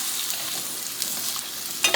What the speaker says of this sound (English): now I'm gonna toss the salmon back